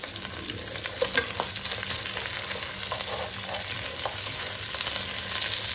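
Crabs fry in cooking oil with a constant crackling sizzle and dense popping. Occasional stirring clicks sit within the steady, close hiss.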